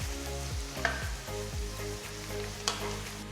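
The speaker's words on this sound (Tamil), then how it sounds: "பாருங்க, வெங்காயத்தை இந்த அளவுக்கு வதக்கணும்." Chopped onions sautéing in oil with cinnamon, cloves and cardamom in a pan for Chettinad pepper chicken masala, a continuous close sizzle with occasional stirring scrapes.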